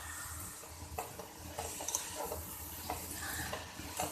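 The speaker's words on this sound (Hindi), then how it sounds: "अब घी के साथ इसको मैं अच्छी तरह से भूनूंगी गाजर को।" Grated carrots stirred and fried in ghee in a pan for gajar halwa, a low steady sizzle with soft scraping stirs, close and moderately quiet, no talking.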